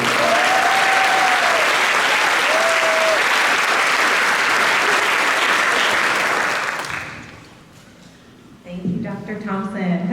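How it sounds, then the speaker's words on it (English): Loud, sustained applause from an audience at a scholarship award ceremony, with a couple of brief whoops inside it, fades away after about seven seconds before a voice starts speaking. "So let's give Helen a round of applause."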